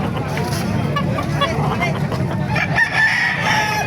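A Palawan Gold rooster crows amid a busy poultry market in Calumpit, Bulacan, its call rising over constant crowd babble, other fowl and distant traffic, with people talking nearby.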